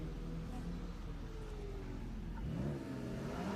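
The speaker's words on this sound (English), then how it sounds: "We have our Celica going for its final launch." Toyota Celica launching off the start of a solo autocross course at Daytona, engine revving and pulling away at medium distance under a steady wash of background noise.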